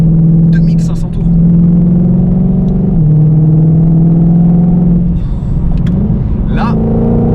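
A Ford Mustang Shelby GT500 engine held around 2500 rpm gives a loud, steady, close rumbling drone with slight pitch shifts, and a voice briefly exclaims over it.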